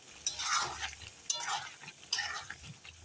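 Spiced chicken curry being stirred in a pan, three short scraping bursts of the spoon over a quiet background.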